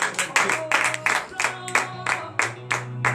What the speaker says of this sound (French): Donnez de vives acclamations.